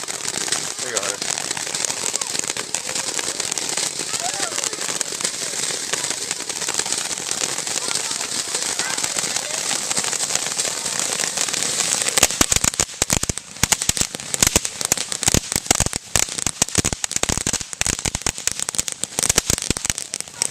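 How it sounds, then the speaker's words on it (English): Firecrackers and fireworks bursting at a backyard barbecue gathering, with dense rapid crackling and sharp pops intensifying into a loud barrage midway, over steady background noise and chatter. "Where do I do fireworks at? Do firecrackers?"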